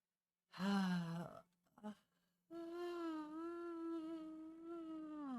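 A loud, drawn-out yawn in a quiet room, rising into a strained voiced stretch, then a brief gasp after a pause and a long, steady sustained vocal exhale.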